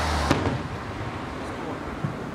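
Fourth of July fireworks go off in the distance: one sharp pop, then a fainter burst later, over a steady low background wash.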